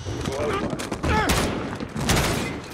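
Gunfire from the Call of Duty: Modern Warfare embassy mission, with sustained automatic bursts and loud shots crowding the mix alongside game effects, close and dense throughout.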